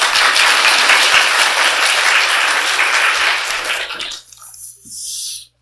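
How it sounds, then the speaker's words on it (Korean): A church congregation applauding to welcome a guest preacher at a worship service, a dense, loud burst of clapping that fades out after about four seconds into near quiet. "박수로 환영합니다"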